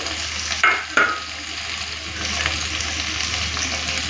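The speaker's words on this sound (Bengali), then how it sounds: "চিংড়ি মাছটা আলাদা করে আর ভাজলাম না, একসাথেই ভেজে নেব" Prawns and ridge gourd frying together in hot oil, a continuous close sizzle with two sharp scraping stirs early on and a low steady hum beneath.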